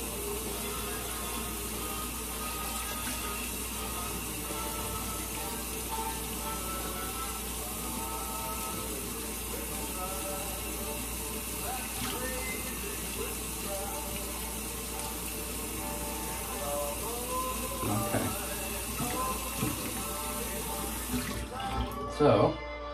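Hot water runs steadily from a bathroom tap into a sink during a shave, a continuous close hiss and splash lasting throughout, with a person talking now and then over it.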